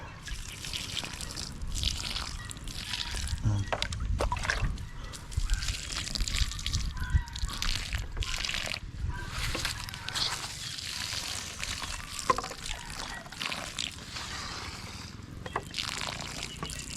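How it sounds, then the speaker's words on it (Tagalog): String bean plants watered slowly by hand in a garden, a steady trickle and drip of water running throughout with a few louder splashes, no voices. "Mas matagal kasi yung magdilig ng ganito mga tropa kasi hindi pwedeng buhos talaga"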